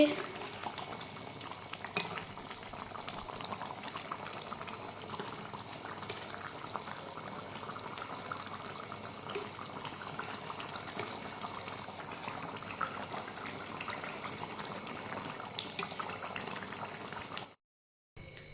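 Pangasius fish pieces simmering in curry gravy, a steady close bubbling and gentle boil running evenly throughout before cutting off at the very end.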